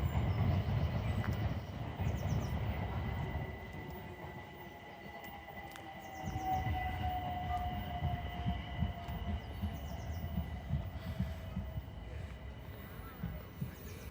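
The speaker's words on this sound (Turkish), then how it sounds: "Görüyorsunuz, tren geçiyor. Duyuyorsunuz sesleri." A train rolls past continuously with rumbling wheels and a long, thin wheel squeal drifting across, heard at moderate distance outdoors near Crystal Palace Park, while someone talks over it.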